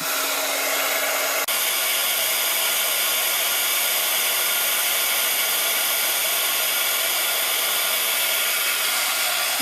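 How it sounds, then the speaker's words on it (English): A crafting heat tool blows steadily to melt and set embossing powder, a loud, even whooshing hum that starts with a brief click and runs unbroken, with no talk. "we're going to go ahead and get our heat tool. We want to warm it up first, and then we will emboss that."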